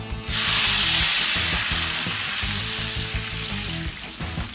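Water hits a hot carbon steel pan with a sudden loud sizzle that hisses steadily, fading slightly, over rattling clanks of the pan.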